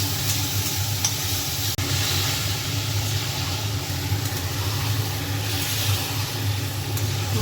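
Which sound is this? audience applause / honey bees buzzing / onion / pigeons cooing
onion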